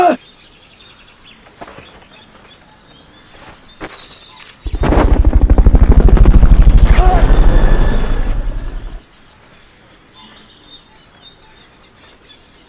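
In Metal Gear Solid: Peace Walker, the Fulton recovery helicopter roars up suddenly and holds loud and steady for about four seconds before stopping abruptly, framed by quieter in-game sounds.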